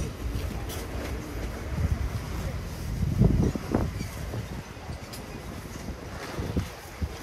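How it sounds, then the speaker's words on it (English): Wind buffets the microphone outdoors at a street market in Whitechapel, London, in gusty rushes, with people talking nearby. "It's really windy here."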